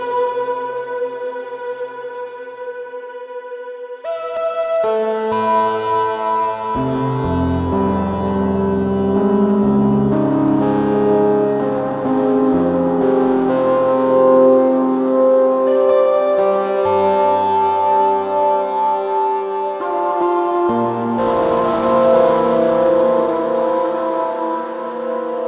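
Sustained musical tones ring out with a long, washy reverb tail, each note blooming and lingering into the next.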